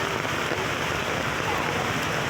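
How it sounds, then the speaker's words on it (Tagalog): Heavy rain pouring down on a walk to the market, a loud constant hiss of drops with no break. "Lakas kasi ng ulan."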